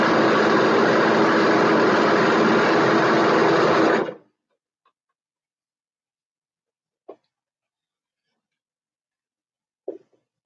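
A sewing machine runs loud and steady while stitching a shirt, then stops abruptly after about four seconds, leaving near silence broken by a couple of faint knocks.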